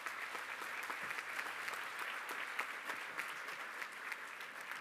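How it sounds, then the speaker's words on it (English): A room full of people at a college commencement claps steadily, a dense even patter of applause at moderate distance with no voices. "I think they deserve a round of applause."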